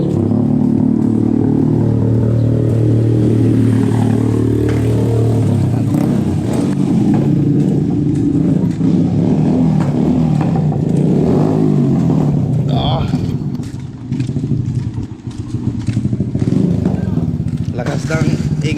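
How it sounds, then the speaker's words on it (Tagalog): Motorcycle engine running loud and steady for nearly twenty seconds, with rough revving and clatter, while people talk over it. "Lakas ng ingay ng motor mo ko ah."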